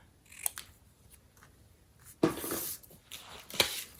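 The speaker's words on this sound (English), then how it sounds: "And then we're going to take our scissors and trim" Scissors snip and trim a paper birthday label during card-making, heard as a few short crisp cuts and crunches, one sharp snip followed by longer rustling cuts, close and isolated in a quiet room.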